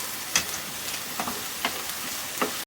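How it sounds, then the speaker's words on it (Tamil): Dried fish, ginger, garlic and onion sauté together in oil for a bottle gourd curry, with a soft continuous sizzle broken by a few sharp spatula scrapes and a clack at the end. "கருவாடு, இஞ்சி, பூண்டு, வெங்காயம் எல்லாத்தையும் சேர்த்து நல்லா வதக்கிக்குங்க"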